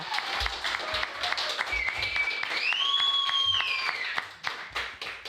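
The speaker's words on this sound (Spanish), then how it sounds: "fuerte aplauso para Pablo Borda, por favor" A television studio audience claps for guest Pablo Borda, with scattered, uneven hand claps and a rising whistle-like tone, while voices murmur underneath.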